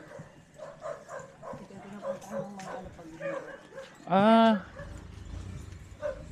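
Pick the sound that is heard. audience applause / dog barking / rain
dog barking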